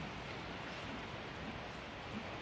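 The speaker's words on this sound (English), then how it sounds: "But the rain hasn't." Steady rain falls on a ranch during calving season, a constant even hiss of drops on surfaces, moderately quiet and unbroken, with no voices.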